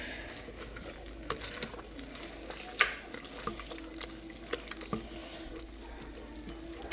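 Spinach dip gets stirred in a crock pot, a soft, continuous wet squelching with several small clicks of the spoon against the pot, close and quiet, without talk.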